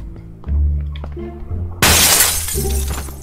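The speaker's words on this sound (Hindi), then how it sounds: "कौन शीशे तोड़ रहा है भाई?" Glass shatters loudly and abruptly in PUBG Mobile, a sharp bright crash that rings out and decays, following a second or so of low game hum and thumps.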